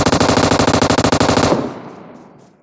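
A rapid, loud burst of automatic fire from an M249 machine gun in PUBG Mobile, steady rhythmic shots for about a second and a half, then a fading tail of echo.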